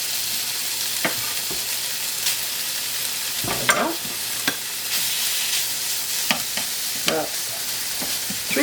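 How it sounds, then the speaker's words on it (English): Three slices of thick cut smoky bacon fry in a pan, rendering their fat with a constant close sizzle, broken by a few louder scraping stirs and spatula knocks, with no talking. "First thing we need to do, render the fat from our bacon."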